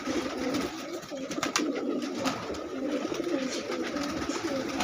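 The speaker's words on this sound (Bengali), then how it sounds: "সমস্ত পায়রাগুলো বাইরে বের করে দেওয়া হলো।" Pigeons coo and call in a loose, continuous chorus just after being released from their loft outdoors, moderately loud and close with steady background noise throughout.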